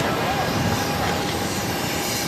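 Jet airliner taking off from runway 22 right at Boston Logan, a loud, continuous broadband engine roar that holds steady without a break.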